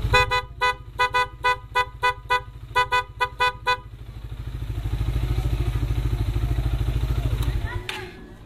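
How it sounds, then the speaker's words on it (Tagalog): A PIAA horn on a Suzuki Raider 150 Carb motorcycle gives a series of sharp, loud honks in a quick rhythmic burst, then the engine drones steadily before a final short toot near the end. "yung tunog ng Pia horn natin"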